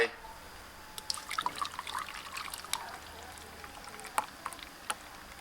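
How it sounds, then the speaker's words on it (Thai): Beaten egg mixture trickles and splashes into a hotpot in short, irregular bursts, with light clinks and drips over a quiet background. "เทใส่หม้อไฟ"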